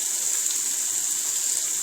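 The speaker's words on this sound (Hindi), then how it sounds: "थोड़ा सा पानी ऐड करेंगे।" Water poured into a pan of roasted masala for savory vermicelli (namkeen sawiyan), a steady hissing trickle running without a break, fairly close and alone with no voices.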